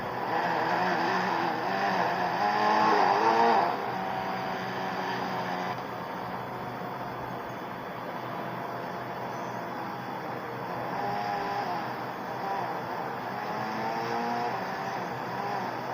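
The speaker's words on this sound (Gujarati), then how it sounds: "આગળ ગાડીઓ જાય છે." Traffic engine noise drones steadily for the whole stretch, several slow-moving cars rolling along the road ahead with a brief louder swell early on, no voices over it.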